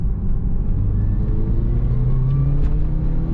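A Subaru Legacy GT pulls hard in second gear, its engine droning loud and steady with a rising pitch as the car accelerates, no voices over it.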